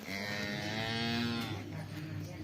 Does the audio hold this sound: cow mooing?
yes